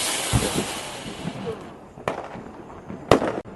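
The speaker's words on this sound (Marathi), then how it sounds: "मम्मी आणि पप्पा आता झाड उडवायला लागले" Diwali fireworks set off outdoors by a family: a spraying fountain-style hiss that fades, followed by two sharp, loud cracks spaced about a second apart.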